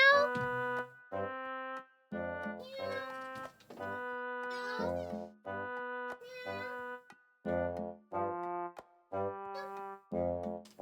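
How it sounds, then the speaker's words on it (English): A cat meows repeatedly and insistently, about a dozen drawn-out, wavering calls with short pauses between them, close and clear. "I can hear my cat going like, meow! Let me in, meow!"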